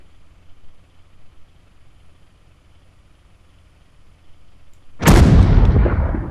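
After several seconds of quiet low rumble, a single loud gunfire blast lands close ahead in the survival game TheFront, a sharp crack followed by a booming, decaying roar.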